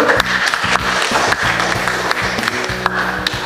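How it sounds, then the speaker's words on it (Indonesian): A classroom of students applauds together, a dense close burst of clapping lasting several seconds, with a low droning hum running underneath and no speech over it. "tepuk tangan dulu"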